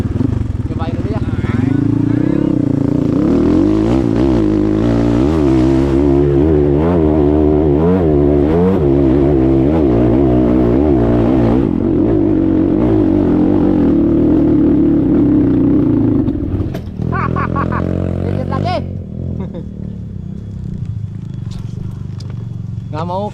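A Honda GL Pro 100cc motorcycle engine straining up a steep hill, loud and close, with a sustained droning rev that rises and wavers, then drops and revs again near the end while voices talk over it.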